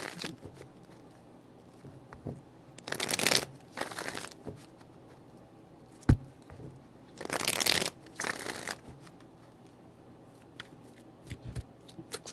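Cards being shuffled twice in crisp riffling bursts, with a sharp tap between them and faint handling noise in quiet stretches.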